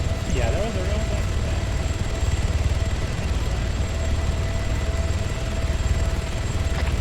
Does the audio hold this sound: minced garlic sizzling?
no